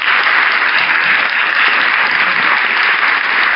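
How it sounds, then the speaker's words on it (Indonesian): Steady, dense applause from an audience welcoming a guest at a campus talk, loud and continuous with an even wash of many hands clapping throughout. "Tepuk tangan untuk semua untuk Kang Yusuf"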